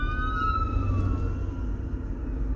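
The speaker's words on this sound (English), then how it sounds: "The ambulance has passed." An ambulance siren wails on a road, its falling tones fading as it passes, under steady nearby engine rumble.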